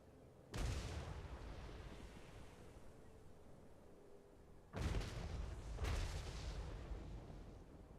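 Field gun artillery fires in the Total War Warhammer III video game: three heavy booms, each trailing off into a long rumbling roar, the second and third close together.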